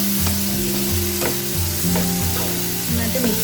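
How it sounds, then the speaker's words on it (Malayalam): Tomato mixture with salt being stirred in a hot pan while making tomato dosa: a steady close sizzle and frying crackle runs throughout, with repeated soft scraping strokes of the spoon and faint clinks against the pan. "നന്നായിട്ട് മിക്സ് ചെയ്യാം."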